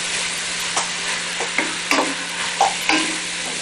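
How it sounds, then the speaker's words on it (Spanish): About 900 grams of beef browns in a pan for a fettuccine sauce, crackling with a constant sizzle punctuated by several short scraping stirs. "acá vamos a dejar que nuestra carne empiece a dorar y a soltar un poquito de sus juguitos"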